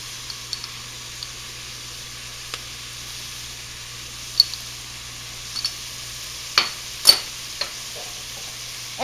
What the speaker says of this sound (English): I want to just get the onions a little golden brown